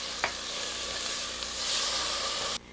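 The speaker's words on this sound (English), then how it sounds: "we're going to saute this for about 5 minutes until everything's lightly browned" Peppers sautéing with garlic, chili, cumin and oregano in a pan, giving a steady, even sizzle throughout with a few faint stirring taps, then cutting off abruptly near the end.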